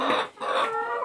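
Free-range hens cluck close by, a dense run of throaty calls with a brief dip in the middle before the clucking picks up again and continues steadily.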